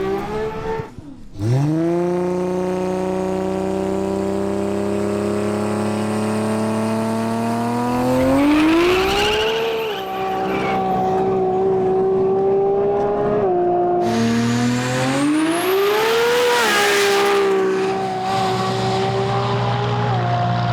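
A roughly 1200-horsepower Nissan GT-R drag car with a Turbo 400 transmission makes a runway pass: a loud, sustained engine roar that climbs steadily in pitch, with sharp shifts dropping the revs before each new surge.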